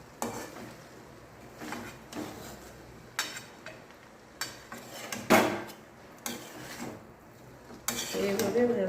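Chow mein with egg and chicken is stirred in a small kadai, with repeated scraping and clanking of a utensil against the metal pan in uneven bursts, close up, over a faint sizzle.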